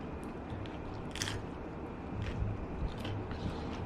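Quiet, close-up chewing of chewy pepitas with a few soft crunchy bites breaking through a low background hum.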